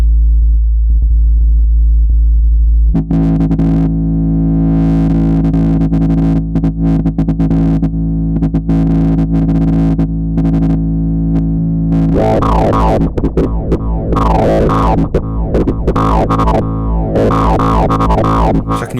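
A Sputnik West Coast modular synthesizer plays a loud, sustained buzzy drone as its timbre modulation is swept by hand, the tone growing brighter and more jagged with rapid flickering harmonics in the second half.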